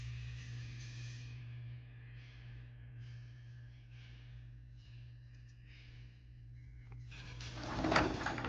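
A drawer slides open or shut in a jewelry storage unit, a soft wooden scrape over a steady low hum, with a brief louder knock near the end.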